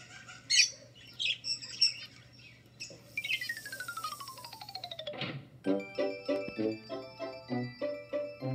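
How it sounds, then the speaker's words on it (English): Zebra finches give a string of bright chirps and squawks, first scattered and then settling into a steady run of rhythmic, closely spaced calls, loud and close against a faint low hum. "Zebra Finch."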